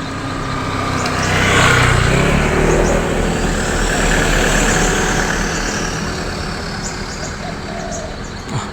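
Road traffic rumbles past, a loud vehicle swelling and fading as engines drone continuously in the background.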